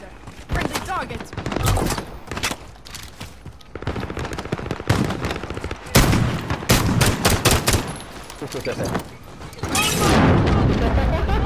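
Rapid bursts of close gunfire in Call of Duty: Modern Warfare, loud sharp cracks in clusters with heavier booms, while players talk over the shooting.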